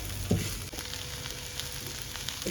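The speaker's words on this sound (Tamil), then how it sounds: "இப்போ தக்காளியும் போட்டுக்கலாம். கொஞ்சம் நல்லா வதக்கி விட்டுக்கலாம்." Chopped tomatoes sautéing in a pan for a Chettinad kothavarangai pachadi, a steady hiss and sizzle with a spoon scraping once near the start, no voices.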